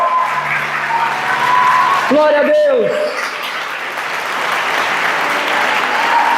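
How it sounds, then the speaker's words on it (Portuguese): Church congregation applauding during a worship service, steady crowd clapping throughout with a voice speaking and a brief sung or called-out phrase over it. "Aplauda o Senhor"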